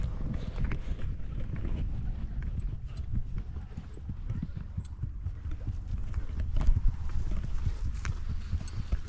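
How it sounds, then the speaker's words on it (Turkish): Horse hooves clip-clop steadily during a ride in Mongolia, a continuous run of fairly close hoofbeats over low wind rumble. "Evet şimdi at sürmeye başladık."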